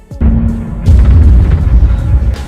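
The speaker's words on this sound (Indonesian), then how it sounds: "kapal selam itu meledak di dalam palung Filipina" A submarine explodes deep in the Philippine Trench: a deep, heavy boom erupts and then a second rumbling blast follows, low and powerful, sustained with a muffled underwater-like roar.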